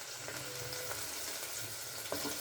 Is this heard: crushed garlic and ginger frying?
yes